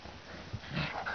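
Puppies tussle over a tug toy, letting out small growls and yips that swell in bursts toward the end, close by and fairly quiet.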